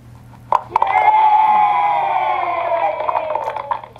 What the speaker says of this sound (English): Sound of the children clapping is a job well done